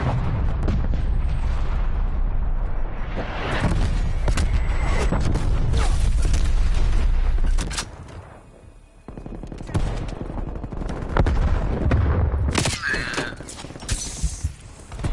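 Incoming artillery explosions and heavy gunfire rage in a Call of Duty: Cold War match: loud, dense bursts of shots and booming blasts, a brief lull, then more crackling fire and impacts, with game voice callouts mixed in.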